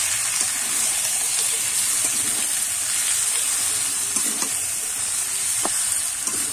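Beans, eggplant and lentil dumplings frying in spices as they are stirred, a dense continuous sizzle and hiss with occasional soft scrapes of the spoon, steady and close throughout.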